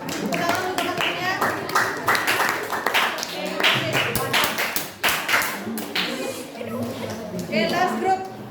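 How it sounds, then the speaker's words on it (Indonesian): Children in a preschool class clap their hands for a group of classmates, a busy run of taps and claps under frequent chatter and a teacher's voice throughout. "Give applause to this group. Tepuk tangan dulu teman-temannya."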